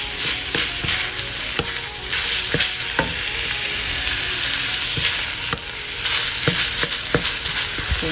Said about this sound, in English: Ground pork. Gisahin lang natin to,